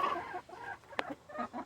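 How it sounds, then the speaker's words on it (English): A broody hen sitting on a clutch of eggs gives a few soft, low clucks and grumbling murmurs close by, faint and broken, with a sharp click in the middle. "There's a broody hen."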